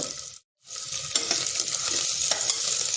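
Carrots fry and get stirred in a pan for Mughal veg pulao, making a close, continuous sizzle with scraping stirs, broken by one brief silent gap near the start.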